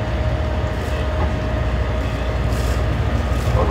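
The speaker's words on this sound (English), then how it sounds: "Can hear the engines." Engines of a dolphin cruise boat at Jervis Bay run as a loud, steady low rumble with a constant drone and faint hum, continuous throughout without talk.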